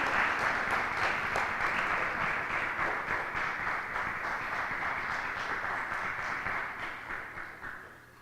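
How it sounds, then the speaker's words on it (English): An audience at a corporate annual meet and award ceremony gives a sustained round of applause, dense steady clapping that holds for several seconds, then gradually thins and fades toward the end. "Ladies and gentlemen, please give a huge round of applause."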